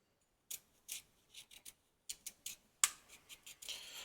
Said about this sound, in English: cut a carrot with a knife.